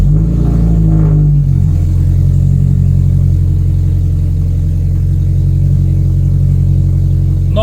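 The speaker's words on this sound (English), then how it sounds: "we are going to enjoy the cold start together" A BMW 114i with a 1.6 engine cold starts: a short starter crank catches, then the engine settles into a loud, steady, rumbling idle, heard from inside the car.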